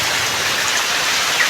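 Heavy rain pours down outdoors in a dense, steady hiss, loud and close throughout with no voices.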